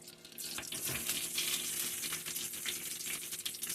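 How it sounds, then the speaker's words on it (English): Rice fries in chorizo oil in a pot, a close steady sizzle with crackling and occasional rattling stirs, no voices. "And then I'm gonna throw it in the chorizo oil"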